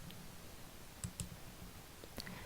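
Computer mouse clicks selecting menu items in a smart-order screen, a few faint, sharp isolated clicks over quiet room hiss, no talk.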